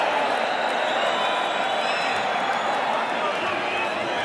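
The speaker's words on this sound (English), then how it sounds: "the crowd is applauding the courage of Steve Zouski as much as they're applauding the efforts of Mike Tyson" An arena crowd at a Mike Tyson vs Steve Zouski boxing match keeps up a steady, dense wash of applause and cheering, loud and continuous throughout.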